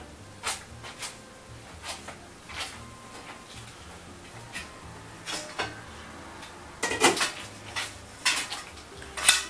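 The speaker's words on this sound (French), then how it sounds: "On prend une casserole." Pots and pans clatter and clink as a saucepan is taken out in a home kitchen, a series of sharp scattered metallic knocks, some louder and clustered near the end, over quiet background with no talking.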